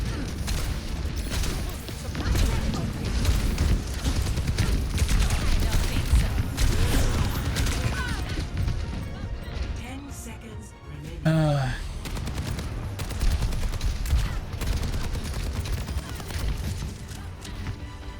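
Missiles and weapons fire in the Overwatch video game, a dense, continuous barrage of loud blasts and booms with mechanical clatter, one brief gap near the middle, with a voice talking over it at times.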